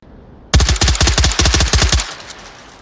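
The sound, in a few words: FAMAS rifle burst fire in video game Onward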